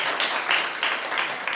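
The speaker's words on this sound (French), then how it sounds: "On l'applaudit quand même." Brief applause from a studio audience for a taekwondo world champion from the Ivorian delegation, a steady wash of clapping with no distinct individual claps, heard alone without talk.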